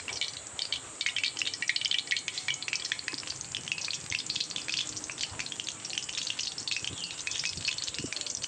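Khaja pastries bubbling in hot oil, a dense continuous crackling sizzle with rapid fine pops throughout, fairly close and steady, no voices.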